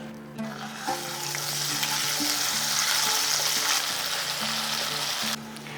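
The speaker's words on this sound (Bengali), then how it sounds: "আদাটা বেশ হালকা করে ভাজা হয়ে গিয়েছে" Ginger paste frying in oil with salt for a pointed gourd dish, a loud, close, continuous sizzle that rises sharply, holds for several seconds, then cuts off abruptly.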